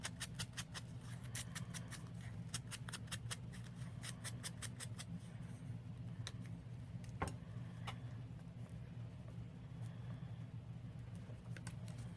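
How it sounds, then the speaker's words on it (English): Scissors snip through a paper label in a quick run of sharp cuts, then a few sparser snips over a steady low hum, close and fairly quiet. "And then I might cut it halfway in the middle of the label."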